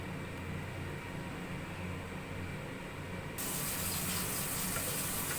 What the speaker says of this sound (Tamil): நல்லா கொதிச்சுக்கிட்டு இருக்கு